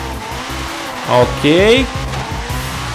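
A McLaren Senna hypercar converted to front-wheel drive, driven through corners in a racing video game, its engine droning steadily with a brief burst of tire squeal and skidding midway, while a voice speaks over it.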